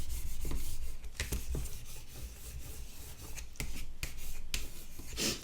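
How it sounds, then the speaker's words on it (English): Scraps of Stampin' Up cardstock are burnished flat by hand, producing soft, close rubbing and scraping strokes with a few sharper scuffs, all quiet and continuous with no talk. "give them all a good burnish down"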